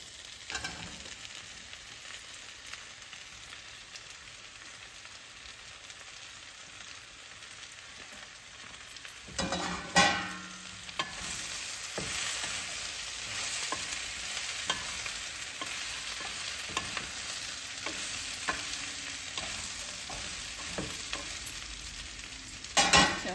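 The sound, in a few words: bell peppers frying and stirred with potatoes in a pan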